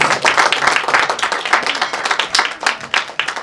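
An audience at a film trailer launch claps for the writer, director and cinematographer Sahadev Kelvadi as he comes on stage, with dense, close, sustained applause throughout.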